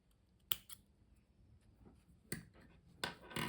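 Scissors snip crochet yarn for a potholder, giving three or four sharp, quiet cuts spaced apart in a hushed room.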